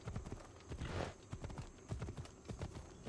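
Rhythmic horse hooves clip-clopping at a steady trot, close and clear, with a brief whoosh partway through, in Assassin's Creed Odyssey.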